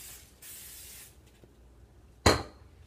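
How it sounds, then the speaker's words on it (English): Cooking spray hisses from a can onto a hot waffle maker for low-carb waffles, two bursts: a longer soft spray early, then a short loud blast near the end, with no talking. "Remember to spray it again,"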